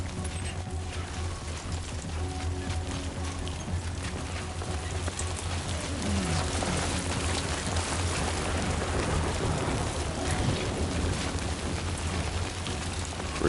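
Steady, dense video game rain patter hisses throughout at moderate volume, with a low rumble underneath and no voices.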